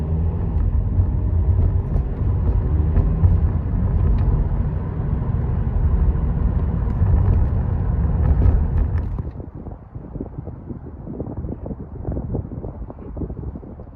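Car interior on a winter drive through the Calumet region, a steady low road rumble with wind noise that drops to a quieter, rougher hum partway through.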